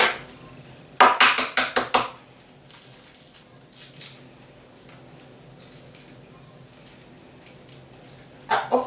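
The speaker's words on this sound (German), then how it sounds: "Ich beginne damit, meine Eier zu schälen." Boiled eggs being peeled for a low-calorie egg salad: a burst of crisp, close shell cracks and crunches, then quieter picking and rubbing of shell, with more cracking at the end.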